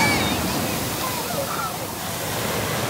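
Ocean waves washing onto a small Hawaiian beach, a steady broadband roar of surf with wind noise on the microphone, continuous and fairly loud without clear breaks.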